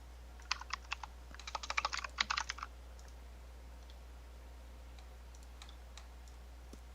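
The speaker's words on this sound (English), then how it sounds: "There was a mechanical keyboard that blocked my ability to hear." Typing on a mechanical keyboard sounds as bursts of sharp, clicky keystrokes, a few separate presses, then a quick flurry, then sparse faint taps over a low steady hum, with no talking.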